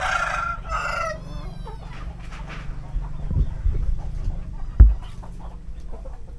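Chickens in a coop cluck and a rooster crows loudly at the start, followed by scattered softer clucks and bird calls with a few nearby knocks.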